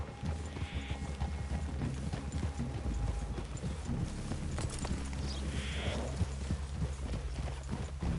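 Horses in the Red Dead Redemption 2 game move with a soft, steady clip-clop of hooves under low ambient noise and rustling, fairly faint throughout.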